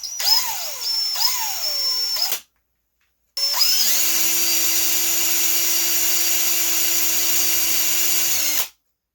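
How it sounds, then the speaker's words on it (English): Power drill boring into a wooden model boat kit, starting with two short revving bursts, then a pause, then one long, steady, close, loud whine. "the drill, getting it started on the center of them crosshairs"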